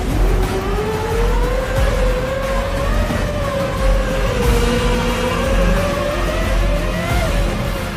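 A car engine in the Free Fire video game revs loudly and steadily for the full stretch, its tone climbing gradually as if held in a high gear, with no voices over it.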